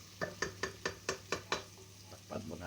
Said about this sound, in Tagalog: Ayan na yung sibuyas, guys. Haluin lang natin.